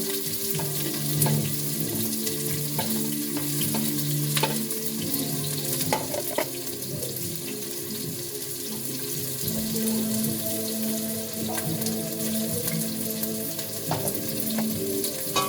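Onions and pepper frying in a pan, a continuous close sizzle with occasional stirring knocks, running water from a tap mixed in, no talking.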